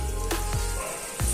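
Kofta balls coated in maida flour, for palak paneer malai kofta curry, frying in a pan: a steady close sizzle with a few brief bursts, no talk.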